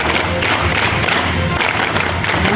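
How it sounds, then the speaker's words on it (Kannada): Dense, loud applause from a college audience fills a National Sports Day celebration as guests are welcomed, a steady wash of many hands clapping at once with a faint crowd murmur underneath. "ನಿಮ್ಮೆಲ್ಲರ ಚಪ್ಪಾಳೆಯ ಮೂಲಕ ಈ ಒಂದು ಕಾರ್ಯಕ್ರಮಕ್ಕೆ ಸ್ವಾಗತವನ್ನು ಕೋರ್ತಾ ಇದ್ದೇನೆ"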